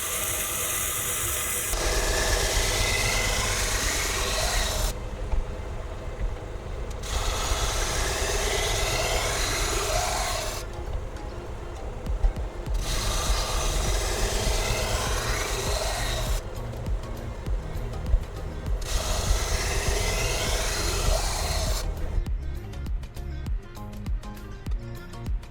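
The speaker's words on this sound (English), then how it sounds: "I'm running the machine at 400 RPM." A knife sharpening machine runs at 400 RPM with a steady droning motor hum, broken by repeated grinding passes of a blade against the wheel, close and continuous.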